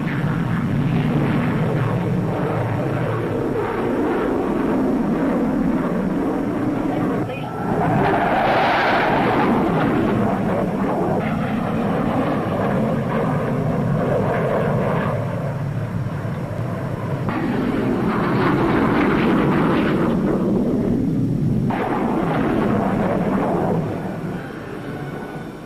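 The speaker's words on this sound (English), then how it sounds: "P-1067 is the latest production fighter for the RAF." Hawker P.1067 jet fighter flying at a UK airshow, a broad, roaring jet rumble that swells and fades over several passes, steady and fairly loud throughout.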